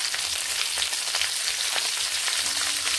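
Cut potatoes sprinkled with salt and turmeric fry in a little oil in a pan, giving a dense, continuous crackling sizzle that stays loud and even throughout.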